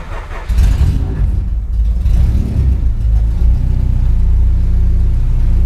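A Honda Civic EG6 engine, just fitted with a new cylinder head, catches and keeps running with a loud, steady, low rumble close by, idling unevenly with no voices.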